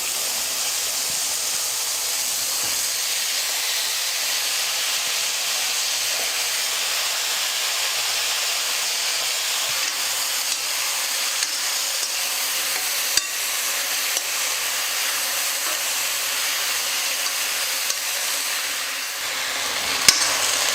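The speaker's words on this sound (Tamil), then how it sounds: "கத்திரிக்காய் மாங்காய் ஒரு 2 நிமிஷம் நல்லா நான் வதக்கிக்கிட்டேன்." Brinjal and mango pieces sauté in a pan with a steady, close sizzle and hiss that continues unbroken, broken only by a few faint stirring clicks, with no talking.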